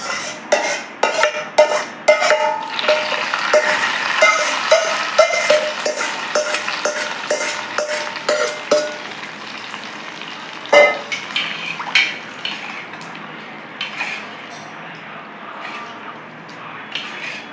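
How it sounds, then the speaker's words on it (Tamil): Hot tempering is poured into a pot of tamarind rasam, starting with a brief sizzle, and a ladle stirs it with rapid metallic clinks and scrapes against the pot that grow sparser and quieter. "தாளிச்சது இதில் ஊற்றிக்கலாம்."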